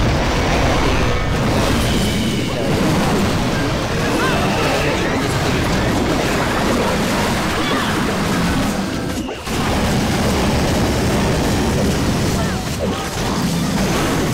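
Explosions and blasts rumble in a Clash of Clans base attack at Town Hall 15, a dense, continuous barrage of booms and crashes that fills the whole stretch without a pause.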